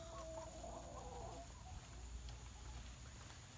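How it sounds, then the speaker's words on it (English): Chickens cluck and squawk in the first half, sounding fairly close, over a steady outdoor rumble; the birds fade after about a second and a half. "if you hear squawking in the background, that's my chickens"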